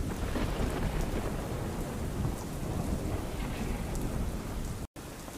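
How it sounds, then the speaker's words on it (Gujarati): Heavy downpour over Botad town in Saurashtra roars as a loud, dense, continuous wash of rain, steady throughout with a brief dropout near the end. "ધોધમાર વરસાદ થતાં બોટાદ શહેર પાણી પાણી થઈ ગયું છે"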